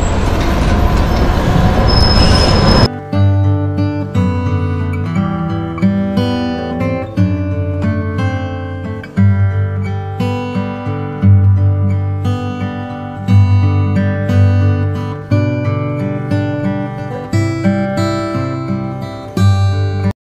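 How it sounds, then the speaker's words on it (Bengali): A city tram in Riga, Latvia passes close by with sustained wheel squealing and screeching over a rolling rumble, after a few seconds of broadband street noise. "এখানে দেখেন ট্রাম যাইতেছে।"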